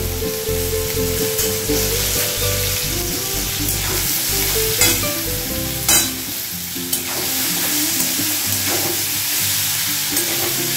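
Mixed vegetables fry steadily in hot oil for a Bengali Sunday lunch, a loud continuous sizzle broken by occasional scrapes and knocks of stirring, with no voices.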